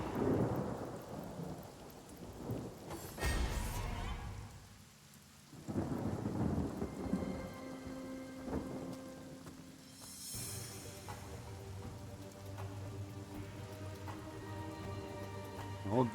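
Steady rain pours down in the video game Divinity: Original Sin while thunder rumbles and cracks loudly twice, with a low hiss of water underneath throughout.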